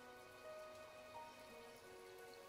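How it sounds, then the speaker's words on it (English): Soft, steady rain falling in a desert within the video game My Time At Portia, a faint continuous patter with a few brief tonal game sounds on top and no talking. "It's raining in the desert."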